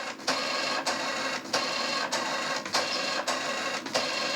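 A 41-year-old HP ThinkJet 2225A inkjet printer at work, its print head sweeping back and forth in steady, loud buzzing passes broken by short regular clicks as the paper advances.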